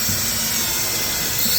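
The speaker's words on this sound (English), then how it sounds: "We're going to pre-drill" A power drill whirs continuously at close range, its steady grinding buzz biting into wood without pause.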